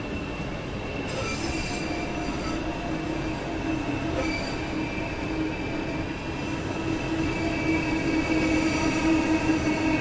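A Class 395 high-speed train in Train Sim World 3 runs steadily on the line from Margate to St Pancras, its wheels squealing in a constant high-pitched whine over a continuous rumbling rail roar, loud and close with no talk.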